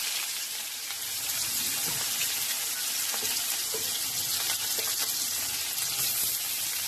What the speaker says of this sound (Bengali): এবার আমি কালো জিরে ফোড়নে দিয়ে দিলাম, দিয়ে আমি এবার পেঁয়াজগুলো ছেড়ে দেবো